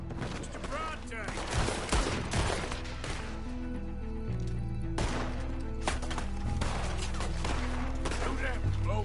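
Gunfire from a shootout in the video game Red Dead Redemption, set in Saint Denis: loud, dense bursts and overlapping shots rattle across the clip over a steady background score, with voices shouting beneath.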